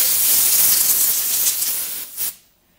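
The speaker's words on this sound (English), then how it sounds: "I'm just gonna hit it with a little compressed air" Compressed air hisses loudly in one steady blast for a couple of seconds against a 1994 Saturn car wheel being repaired and refinished, then cuts off abruptly into silence.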